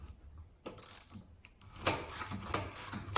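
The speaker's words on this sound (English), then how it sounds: "So these Yankee screwdrivers are great for slotted screws, and it really does thread in" A Yankee ratcheting screwdriver drives a slotted screw into a wooden sleigh bed rail, giving short bursts of quick ratcheting clicks and scraping, close up and fairly faint.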